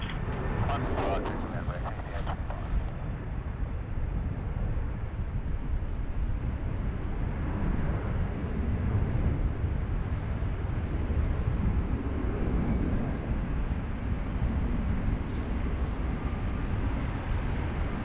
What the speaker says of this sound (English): they're certainly rocketing off the runway 16 right today